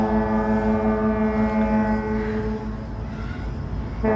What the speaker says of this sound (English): And to see the ferry coming by.